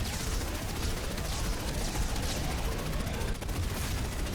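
Turrets in Mass Effect 2 fire steadily, a dense continuous rattle of rapid gunfire mixed with game ambience at moderate level, with no clear pauses.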